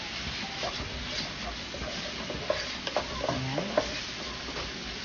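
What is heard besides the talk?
onion sautéing in cooking oil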